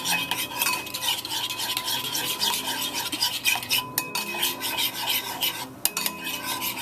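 A utensil scrapes and stirs Vietnamese lúc lắc sauce in a pan, rhythmic swishing strokes with light sizzling, close and fairly loud with no voices.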